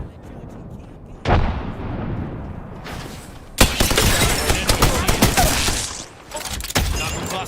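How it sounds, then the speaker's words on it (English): Frag grenade explosions in the battle-royale shooter Apex Legends: a sharp boom with a trailing rumble, then a louder blast followed by a chaotic spray of crackling gunfire and debris, close and loud with voices in the mix. "Frag out! Grenade out!"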